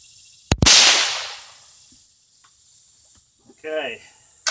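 CZ452 rifle fires a single sharp, loud shot at an outdoor range, its report decaying over about a second, followed by quiet and a brief voice.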